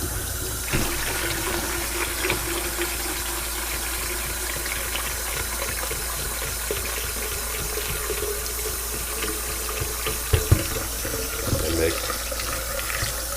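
Cold water runs steadily from a tap into a container while hydrated lime is mixed for rejuvenating mushroom grain blocks, a continuous close splashing stream with a few clunks near the end.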